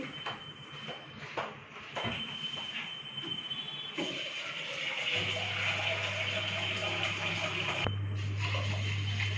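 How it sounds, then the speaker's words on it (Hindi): Water pours steadily into a pot of washed rice, a rushing splash that builds and fills, with a few knocks and clinks of the vessel at the start. "और अब इनमें मैं पानी डालूंगी।"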